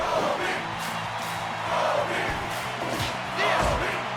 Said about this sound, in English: the crowd chants COLBY's name